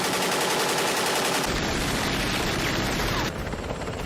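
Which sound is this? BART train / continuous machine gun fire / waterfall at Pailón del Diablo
continuous machine gun fire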